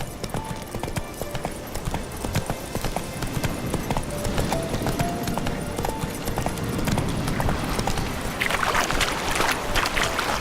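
Hooves of Geralt's horse Roach in The Witcher 3 video game, a rapid rhythmic clip-clop of galloping steps, close and steady throughout, with faint ambient game sounds and a brief brighter rush near the end.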